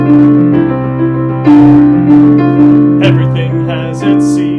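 Two-bar introduction of a song from Pippin, a slow ballad-style musical theatre intro played as sustained chords with a gentle melodic line, loud and continuous, no talking.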